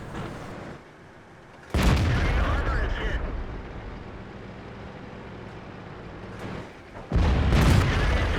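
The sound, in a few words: tank cannon fire in World of Tanks video game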